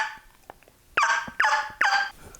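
A person imitates a turkey hen's cluck with a hunting call, producing three sharp, raspy clucks at an even pace, close and fairly loud, after a few soft clicks.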